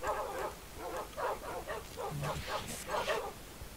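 Dogs in the Minecraft video game bark in a quick series of short, close yips and woofs, roughly a dozen over a few seconds, with no talking over them.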